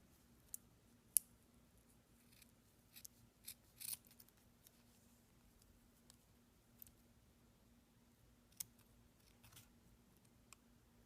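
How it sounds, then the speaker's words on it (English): Scissors snip through felt in a handful of scattered, quiet close-up cuts with long pauses between them, set against a low steady hum and no voices. "I'm going to save some felt and cut around it."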